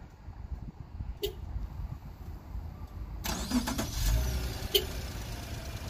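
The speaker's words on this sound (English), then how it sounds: "There it is, car's running." A 2016 Subaru Outback starts by remote start, its engine cranking and catching after a few faint clicks, then settling into a steady idle heard from nearby outdoors.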